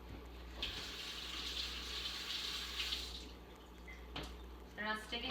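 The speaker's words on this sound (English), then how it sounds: "Rinse my hands off." Hands rinsed under a running kitchen tap while baking pumpkin pie, a steady close splash and gush of water that stops partway, then briefly starts again.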